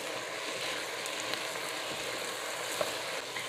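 Seasoned ground meat frying in a pot for lasagna soup gives a steady, moderate sizzle with a few faint clicks and no voices.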